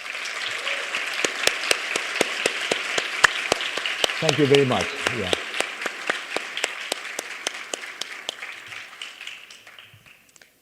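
Sustained crowd applause at a conference presentation on the JAXA CubeSat deployment service from the ISS, a steady wash of many hands clapping that slowly thins and fades out, with someone briefly speaking his thanks partway through.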